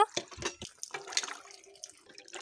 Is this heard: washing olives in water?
yes